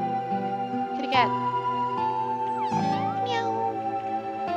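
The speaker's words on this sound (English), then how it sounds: "Kitty cat." A cat meowing in the video game OMORI, two or three clear meows over light background music, with a voice talking as well.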